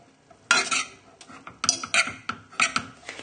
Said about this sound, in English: all we need to do is just fluff it up lightly with a fork